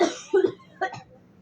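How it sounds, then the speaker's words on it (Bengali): A woman with a cold coughs in a few short, close bursts, with a throaty clearing between them and quiet after. "বড় বউ কিন্তু আজকে একটু অসুস্থ মানে ঠান্ডা লাগছে তো দেখতেই তো পারতেছেন কাশতেছে"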